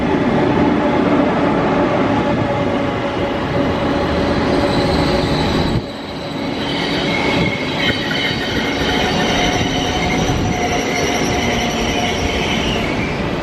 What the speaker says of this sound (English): Train's pulling up right now.